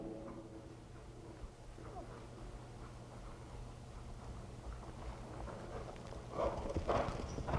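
A horse canters in a riding lesson, rhythmic hoof clip-clops under a steady low hum, fairly faint and growing a little louder toward the end.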